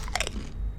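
A quick pair of crisp crunching bites from SpongeBob crabby patty burgers in a video game, then a short pause and one more crunch, close and fairly loud.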